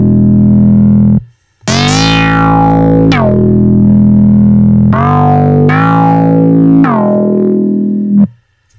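A house bass pad patch built in NI Massive, loud sustained chords with bright filter sweeps falling on each new stab, several phrases separated by short gaps, alone without talk.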